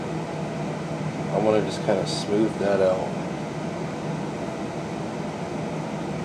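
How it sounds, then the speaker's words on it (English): Home furnace running in a basement, a steady low broadband rumble and whoosh under someone speaking briefly in the foreground. "That is my furnace kicking on, because I am in my basement."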